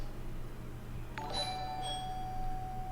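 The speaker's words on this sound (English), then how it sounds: "Who's ringing the bell?" A doorbell chime rings once indoors, a clear bright tone with a lingering ring over a steady low hum.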